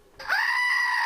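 A toy goat figurine lets out a loud, close electronic bleat that rises sharply and then holds as a steady, slightly wavering cry. It sounds alone, with no talking over it.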